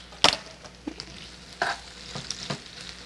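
Onions frying in a pan, with a few scattered scrapes and clatters of stirring over a soft, low sizzle, fairly quiet and close, no talking.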